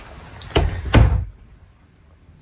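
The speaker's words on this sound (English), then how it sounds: "And you got the sliding door for privacy right there" A sliding privacy door in a new lightweight Starcraft Super Lite bunkhouse travel trailer rolls and bumps shut with two quick knocks, close by in a quiet interior.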